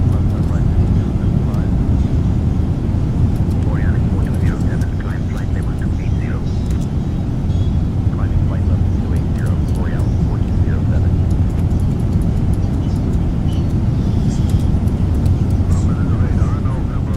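A steady, loud roar of a Boeing 777 in a flight simulator fills the whole stretch, a constant low engine drone with faint voices now and then.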